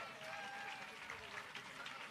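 A crowd at a counter-protest rally in DC applauds speakers leaving the stage, with scattered clapping and cheering heard at a distance, fairly faint and mixed with voices.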